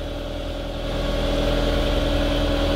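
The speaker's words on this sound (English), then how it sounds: "It's a John Deere excavator" A John Deere 120 excavator, left sitting unused for several years, idles with a steady low diesel rumble and a constant mechanical hum. The engine runs close and loud, even and unbroken, with no talk over it.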